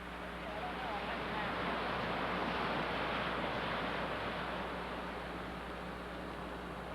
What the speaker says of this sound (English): That's the Pacific Ocean out there, Carolyn.